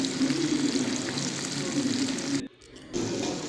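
Sardines frying in a pan, a steady close sizzle and crackle of hot oil running throughout, briefly dipping quieter for a moment before the busy spitting resumes.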